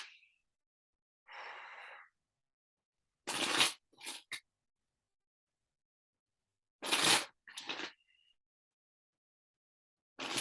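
Tarot cards being shuffled in a quiet room, coming as several short separate bursts of riffling and snapping with silent gaps between them and no talking.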